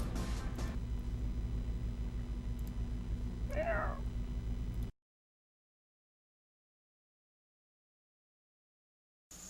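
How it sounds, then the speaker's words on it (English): A single cat meow rises and falls midway through over a steady low hum, and the sound then cuts to silence. "Cat's here."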